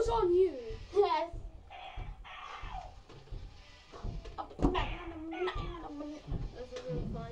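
Cat meowing in a series of rising, wavering cries, close and fairly loud, with a voice talking in between.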